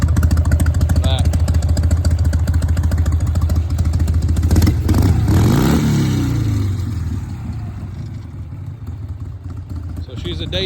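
A 1988 Harley-Davidson Softail runs close by with a steady, loud low rumble, its engine note rising and sweeping through a short rev near the middle before settling back into a throbbing idle.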